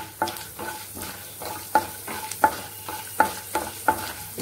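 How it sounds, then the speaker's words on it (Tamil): Mustard seeds with urad and chana dal frying in hot oil for ellu sadam give a steady close sizzle, broken by regular scraping stirs about every half second, with no voices. "அதை கொஞ்சம் நல்லா செவக்க வறுத்துக்கிறணும்"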